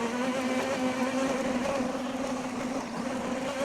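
An RC lawn mower drives on battery power alone with its engine off, giving a steady electric motor whine with a constant tonal hum, close and continuous throughout.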